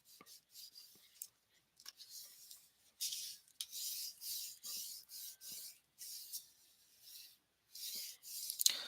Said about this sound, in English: I'm just going to burnish it down